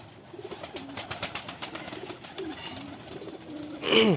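Pigeons coo close by in a soft, repeated series of low throaty calls, ending with a louder call, with faint background noise and no talking.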